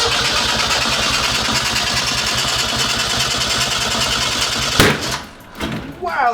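A four-cylinder Datsun with a GTX35R turbo cranks with a rapid, loud, rhythmic starter chatter, then fires with a sharp bang and sputters unevenly up close, voices reacting underneath.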